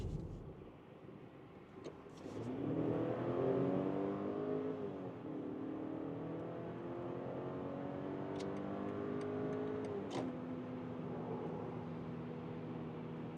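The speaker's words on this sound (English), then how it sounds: "So that's the first acceleration, driving the X320 here" A BMW X3 20 in sport mode accelerates hard from inside the cabin, its engine rising in pitch through the gears with brief dips at each shift, a steady close drone without talk.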